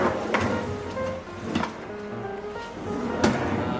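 Spoon drawer in a home kitchen sliding open or closed, giving three distinct wooden thumps and rattles spaced about a second and a half apart, close and moderately loud, with no talking.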